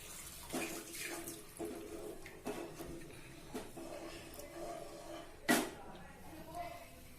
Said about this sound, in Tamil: இந்த பட்டாணி வேக போட்ட தண்ணியை இதில் ஊற்றிக்கணும்